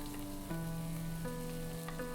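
Mushrooms and mashed chickpeas frying in ruby red chili oil in a pan, giving a soft, even sizzle under sustained musical tones.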